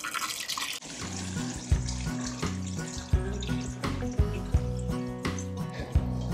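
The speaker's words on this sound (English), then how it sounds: "And now all I've got to do is pour this warm pickling solution over these guys." Warm pickling solution is poured over sausages and eggs in a jar, a steady splashing stream that swells and fades in short surges beneath background music.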